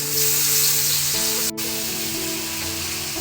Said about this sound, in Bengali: তো বেলে মাছগুলো ভেজে নিচ্ছে সাবু।